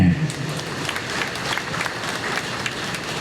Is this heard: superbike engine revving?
no